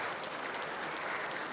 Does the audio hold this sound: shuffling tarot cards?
no